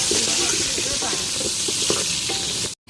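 Food frying in a pan, a dense close sizzle with stirring clatter throughout that cuts off abruptly at the end.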